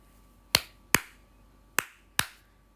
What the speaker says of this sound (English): O king, I shall clap. Let me clap.